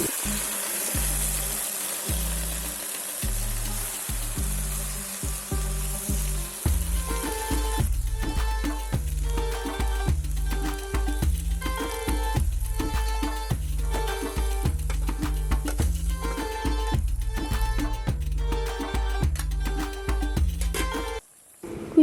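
Malabar spinach tossed into hot oil with onion, cumin and ground spice paste, frying close by with a steady loud sizzle and regular stirring scrapes for over twenty seconds, with no talk.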